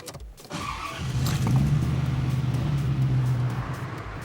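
A Chevrolet Corvette C4 is started, its engine catching after a brief crank and then settling into a steady, low idle close by, with no voices.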